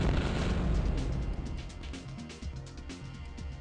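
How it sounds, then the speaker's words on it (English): Explosions in the 1995 PC action game Crusader: No Remorse: a loud, dense burst of booming blasts at the start that decays into rumbling debris and smaller pops, with no talk over it. "Game has wonderful explosions."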